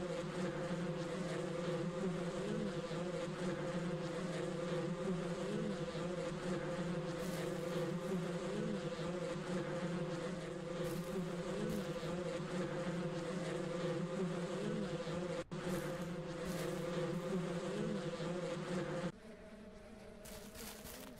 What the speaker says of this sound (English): looks like I now have the bees